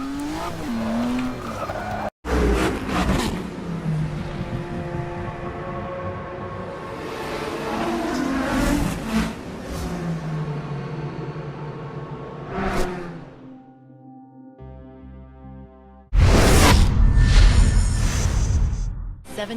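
Ford GT racing through city streets in Brazil in the Forza Motorsport 6 video game, with engine revs rising and falling through gear changes, a tire squeal, a brief dropout and a loud burst of acceleration near the end.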